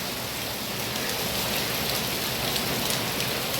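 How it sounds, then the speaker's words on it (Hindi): Heavy rain pours down steadily in a dense, unbroken hiss, loud and close throughout, with no voices over it. "अभी फिर से अचानक और तेज़ बारिश होने लगी है और ज़्यादा तेज़ होने लगी है"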